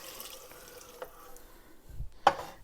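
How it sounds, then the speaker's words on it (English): Two cups of water are poured into a cooking pot for Persian tomato rice, a faint, short trickle ending in a small splash. "So we're going to start with 2 cups of water."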